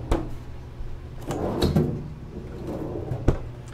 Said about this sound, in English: You have 2 large drawer fridges, and these also have freezers underneath.